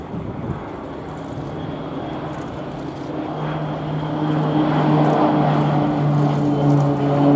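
A Pilatus PC-9M propeller aircraft of the Croatian Air Force aerobatic team flying a display at RIAT 2016, its steady engine drone swelling louder as it approaches, with wind noise on the microphone.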